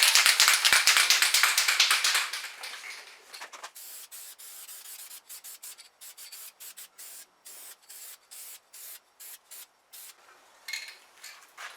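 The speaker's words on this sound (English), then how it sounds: "Make sure you see a nice spray pattern coming out of your aerosol." A loud, steady hiss of an aerosol can spraying primer lasts about three seconds, then trails off into a series of quick, short spurts and light taps.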